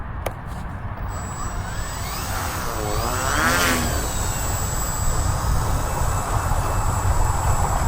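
Electric-sounding motor of a 1.6 m Fieseler Fi 156 Storch radio-controlled model plane spooling up for takeoff outdoors, a rising whine sweeping up and down over a loud steady wind-like rumble.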